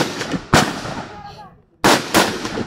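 Two sharp, loud gunshots ring out about a second apart at an outdoor marksmanship training range, each echoing briefly before fading, with faint background voices between them.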